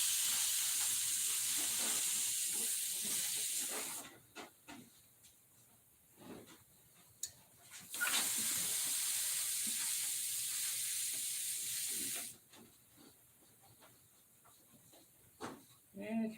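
Steam iron hissing in bursts, two long loud jets of steam separated by quieter stretches of faint handling noise and soft talk.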